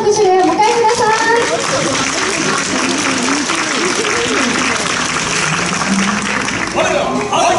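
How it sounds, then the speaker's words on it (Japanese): Audience applause for a samurai warrior troupe at a Sekigahara-themed photo session, a steady wash of clapping throughout, with a voice and an announcer speaking over it. "それで大きな拍手を迎えください"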